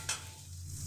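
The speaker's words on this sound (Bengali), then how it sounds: "এবার মশলাটা যতক্ষণ না তেল ছাড়বে ততক্ষণ আমার আস্তে আস্তে করে এইভাবে নেড়ে নেড়ে ভেজে নিতে হবে।" Cumin, ginger and garlic paste fries in oil while being stirred in a pan, a soft steady sizzle with a brief scraping stir near the start, faint and close.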